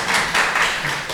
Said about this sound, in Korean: 그럼 박수로 환영하도록 하겠습니다.